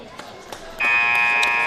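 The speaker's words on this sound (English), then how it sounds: "So we'll get a buzzer." A scoreboard buzzer blares at a high school girls basketball game, Ripon against Berlin, as one long steady electronic tone that follows a few moments of gym noise and footsteps.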